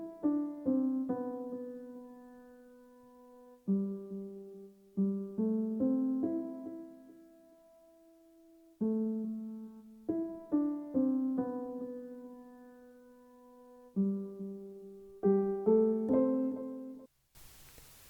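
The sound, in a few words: vintage-style piano layer for a sample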